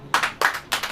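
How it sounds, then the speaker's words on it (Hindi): A church congregation claps in three short bursts of applause at a Hindi-language sermon, each burst a quick flurry of hand claps separated by brief pauses. "ताली हो जाइए।"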